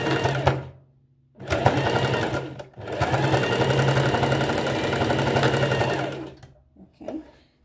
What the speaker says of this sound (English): we're just going to go ahead and put a straight stitch there and secure it